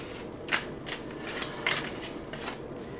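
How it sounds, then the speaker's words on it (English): Tarot cards are shuffled by hand in a run of quick, crisp riffling bursts, about five of them over a few seconds, close up and fairly quiet with no talking. "I'm going to shuffle a bit."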